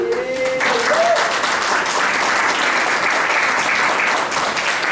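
Loud, sustained applause from a crowd at a student landscape design presentation, dense clapping that fills the whole stretch after a brief voice at the start.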